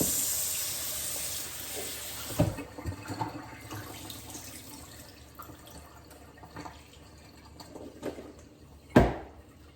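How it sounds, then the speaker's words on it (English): Carrots being rinsed under a running kitchen tap while cooking brown stew chicken, a steady hiss of water with a few splashy bumps and clunks as the vegetables are handled near the sink. "So we're going to give it a rinse. Wash off the carrots."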